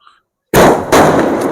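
A sudden loud crackling burst of fancy Sivakasi firecrackers erupts after a moment of silence, followed by a second sharp burst and continuing sputtering crackle.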